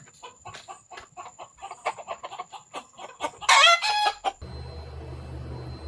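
A chicken clucks and squawks in a rapid, uneven string of calls, with a brief louder flurry near the end before a steady low rumble takes over.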